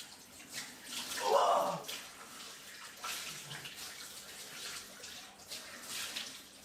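Cold water runs from a tap in a steady, soft stream as someone washes their face at a sink, with a brief exclamation and light splashing.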